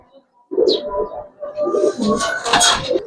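Giribaz pigeons at a sale coo loudly and close by in a steady run of throaty, rolling calls. A brief higher chirp comes near the start.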